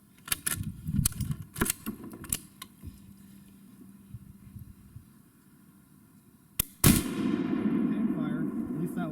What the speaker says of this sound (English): Hang fire. At least that one fired.